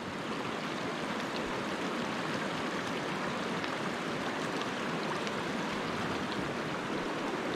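Constant close roar of a mountain river near Grande Cache, broad rushing water noise holding level throughout, alone with no talk.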